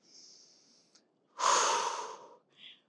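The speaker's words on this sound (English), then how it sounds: "Big strong breath out through your mouth." A single strong, forceful breath pushed out through the mouth during a Pilates crunch, close and breathy, lasting about a second, with a fainter softer breath before and a short puff after.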